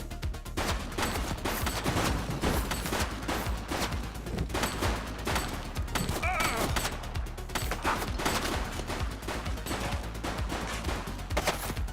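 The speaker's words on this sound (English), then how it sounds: "She's shooting!" Sustained, dense gunfire from a police-action video game, The Precinct 2, with rapid overlapping shots and bursts filling the scene loudly and continuously, plus occasional crashes.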